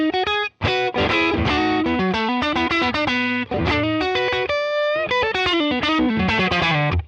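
Blues guitar played through the Neural DSP Tone King Imperial amp plugin, giving a tight, in-your-face tone: loud, continuous distorted chords and single-note runs with a brief gap near the start, no talking.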